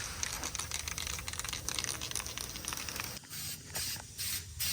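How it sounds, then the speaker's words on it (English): Spray painting a Nissan 350z inside a paint booth gives a faint, continuous hissing spray with short bursts and pauses, heard at low level with no talking. "So Sean's been spraying as I've been taping it up"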